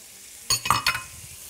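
Onion dropped into darkened caramelized sugar in a pot, hitting with a sudden loud sizzle and two more sharp crackling bursts as it is stirred, then settling to a quiet hiss, close up and with no voices.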